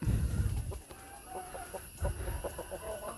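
Aseel chickens, a hen and rooster kept in a backyard coop, cluck in several short bursts close by, with quieter calls between them and no talking.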